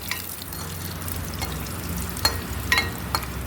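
Onions, dried chillies and curry leaves fry in hot oil for sambar, giving a steady crackling sizzle with bright pops and stirring scrapes, close and unaccompanied by voices.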